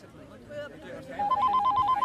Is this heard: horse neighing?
no